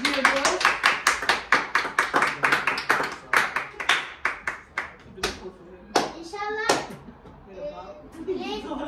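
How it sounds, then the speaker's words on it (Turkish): At a birthday celebration, a small group claps in a quick, sharp rhythm for several seconds, then the clapping breaks into scattered claps while children's voices and chatter come through. "Alkışlıyoruz."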